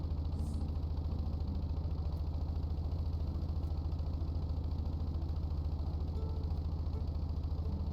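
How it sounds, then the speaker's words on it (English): A truck engine idles in the Stormworks video game during snowfall, a low, steady, tractor-like rumble that runs evenly and continuously with no voices over it. "The engine sounds like a tractor"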